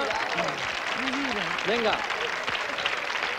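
A television studio audience applauds at length on a Spanish talk show, steady dense clapping with a few shouted voices over it.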